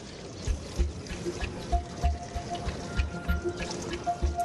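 A depth sampler lowered into the Yamuna river to collect a water sample gives irregular splashes and drips over a steady liquid trickle, with sloshing pulses recurring every half second or so close by.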